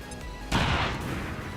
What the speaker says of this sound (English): Here we go. AP grenade.